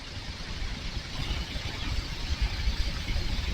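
A Kawasaki KLR motorcycle engine drones steadily while riding uphill, a low rumbling mixed with wind noise, continuous and fairly loud throughout with no pauses.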